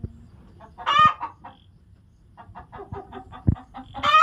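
Native country hens and roosters cluck in several loud, close bursts separated by quieter gaps, with a short squawk-like peak near the end and no talking.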